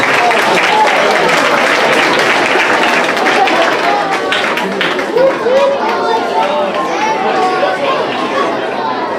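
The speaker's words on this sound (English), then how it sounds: "Let's give them a round of applause as they enter the stage." An elementary school audience claps and cheers steadily throughout, with lively chatter mixed into the sustained applause.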